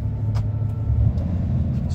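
Road traffic rumbles from inside an HGV cab at night on the A47 as vehicles approach a junction, a steady low drone filling the whole stretch with a few faint brighter swishes on top and no one talking.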